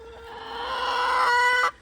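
A backyard chicken lets out a single loud, drawn-out squawking call, close and clear, rising and holding for over a second before cutting off abruptly.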